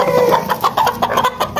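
Small caged finches, zebra finches and a ring bird together, give a busy run of high chirps and twitters, close and steady throughout.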